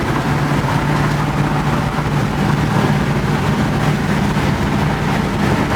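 A 1973 Chevy Impala cruises down the highway with the driver's and passenger windows open, its engine drone blending with steady road rumble and wind roar, loud and unbroken throughout.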